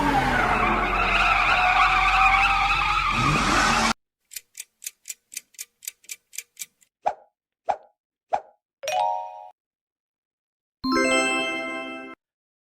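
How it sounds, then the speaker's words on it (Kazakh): A race car's engine roars loudly and steadily for about four seconds with a skidding tire edge, then gives way to a quick run of plinking chimes and bright jingle tones, with no voices. "Дұрыс, бұл жарыс автомобилі."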